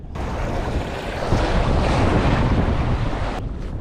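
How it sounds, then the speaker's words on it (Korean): Strong wind buffets a beach in Long Beach, California, during halibut lure fishing, a loud, steady roar of gusts and surf rumble that drops away briefly near the end. "바람이 겁나 봅니다. 겁나 불어."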